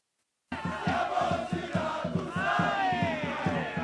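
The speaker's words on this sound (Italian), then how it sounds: "Al Ponte Umbertino l'arrivo del Siracusa Calcio, tra applausi, cori e fuochi d'artificio" Football fans of Siracusa Calcio greeting the team's arrival at Ponte Umbertino in Ortigia, a loud crowd chanting in a pulsing rhythm with cheers and clapping, voices rising together close by.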